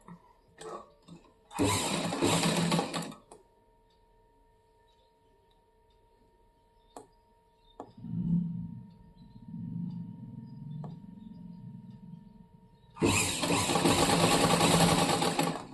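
A sewing machine stitches a cross belt onto a blouse in two loud close bursts of rapid whirring, separated by quiet pauses with faint clicks and fabric handling.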